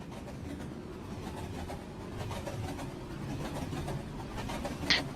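A train passes nearby with a low rolling rumble and faint rhythmic clatter, heard from inside a moving car, swelling slightly toward the end.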